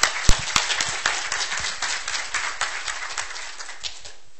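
A lecture audience gives a short burst of steady applause for a speaker introduced at a precision medicine talk, with dense clapping that thins and fades out after about four seconds.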